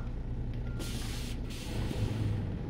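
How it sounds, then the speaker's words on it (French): A truck's air brake being set in On The Road Truck Simulator, heard as a steady broad hiss with two brief brighter bursts, alone and fairly close. "Frein à main."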